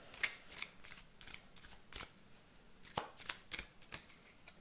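Tarot cards shuffled and drawn close by, a run of quick papery riffles and soft slaps with brief pauses between, quiet and on their own.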